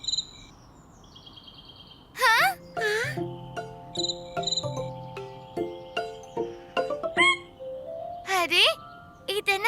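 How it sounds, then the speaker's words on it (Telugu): Cartoon crickets chirp in short high trills amid whimsical synthetic tones and clicks, with several brief bursts and character voices speaking throughout. "అరే కీచురాళ్ళు"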